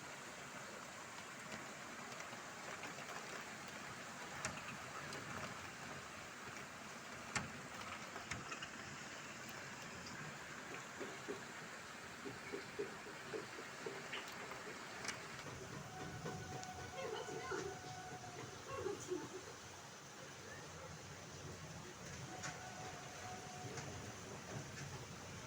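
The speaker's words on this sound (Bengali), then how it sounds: "বন্ধুরা দেখুন বাইরে কি ঝড় বৃষ্টি হচ্ছে।" Heard from inside a house behind glass windows, a storm's strong wind and rain roar as a continuous dull rush, with occasional rattles and thumps.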